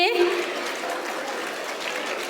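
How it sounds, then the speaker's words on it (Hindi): Applause for meritorious students at a school event: many hands clap in a steady, dense patter filling the room for a couple of seconds after a short voice. "एक बार जोरदार तालियां हमारे मेधावी छात्राओं के लिए।"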